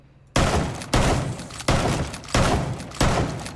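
Five heavy shots boom one after another at roughly even intervals in Rainbow Six Siege cover fire, each a loud sharp blast followed by a decaying roar, with no voices.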